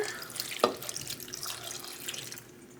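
A liquid mix of brown sugar, balsamic vinegar, apple juice and cranberry juice poured over pork chops, a close, steady trickling splash with one sharper splat early on, fading slightly toward the end.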